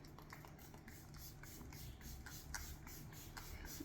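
4-in-1 moisturizing body spray shaken and misted onto skin, a steady soft hiss of fine spray with faint rattling, close and quiet, no voices.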